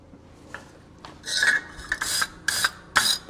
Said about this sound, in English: I'm gonna go ahead and give it a light brushing right now